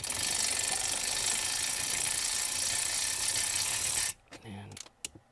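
Ratchet with a universal joint and extension turning a screw on an HVAC mode door actuator in a 2013 Ford Taurus, a continuous close rapid clicking whir for about four seconds, then a few sparse handling knocks.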